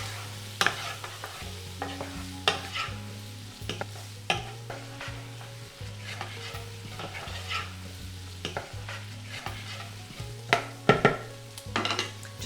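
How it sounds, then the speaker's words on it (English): Potatoes are stirred in the pot of a Ninja Possible Cooker Pro with repeated scraping and knocking of a utensil over a low sizzle. It is close and fairly rhythmic, with sharper clacks near the end. "put your potatoes in and then give it a stir"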